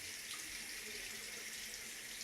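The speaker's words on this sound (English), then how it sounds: "And then you simply rinse with warm water." Warm water runs steadily from a tap while skin is rinsed, a constant broadband hiss alone without any voices for the whole stretch.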